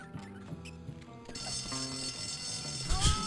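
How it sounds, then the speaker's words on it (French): A school alarm goes off in the video game Bully, with quieter game sounds that give way to a steady, loud ringing tone that keeps going to the end. "Ah, je peux déclencher l'alarme?"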